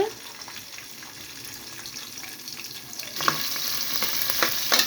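Green chillies fry in hot oil in a pan with a steady close sizzle that grows louder and brighter toward the end.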